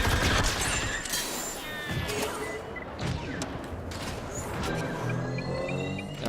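Rapid blaster and gunfire fills a Star Wars Battlefront 2 Galactic Assault multiplayer battle, dense overlapping shots and bursts with mechanical clatter, loud and continuous throughout.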